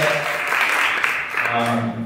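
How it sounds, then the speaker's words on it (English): Audience applause at a Sunday service, a steady wash of many hands clapping at close range, with voices talking over it. "Give a round of applause."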